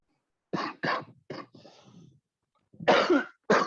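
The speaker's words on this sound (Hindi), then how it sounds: "ज्यादा जोर से बोल रहा हूँ, खांसी आने लगे मुझे।" A man lecturing in class coughs several times in quick bursts, then pauses and coughs again twice, close and fairly loud with no talk over it.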